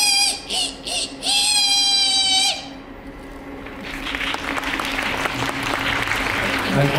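A high, wavering tone sounds briefly, then a theme park show audience at Universal Studios Japan breaks into steady, fairly soft applause that carries on to the end.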